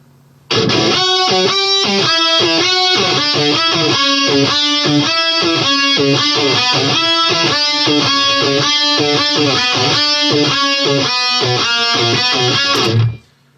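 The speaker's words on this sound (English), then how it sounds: "whammy guitar parts, which are kind of the theme of this" Distorted electric guitar parts run through a whammy pedal play soloed, a steady chugging riff of rapid repeated chords with pitch-shifted tones, loud and continuous until an abrupt stop.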